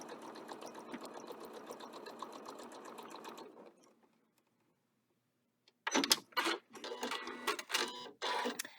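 A sewing machine with a 1/4 inch foot stitches a sashing strip onto a quilted table runner in a steady fast whir, stops into near silence, then resumes in several short close bursts.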